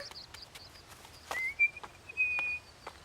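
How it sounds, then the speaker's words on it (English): A cartoon character whistles softly outdoors among birds, with short high chirps followed by a rising, sustained whistled tone over quiet background. "Why are you whistling?"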